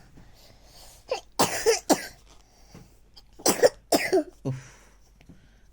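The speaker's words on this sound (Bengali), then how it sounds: "কাশি হচ্ছে কি বাবা?" A small child at home before bedtime coughs in a few short bursts, some close together, with quiet gaps between them and a brief murmured word in the clip.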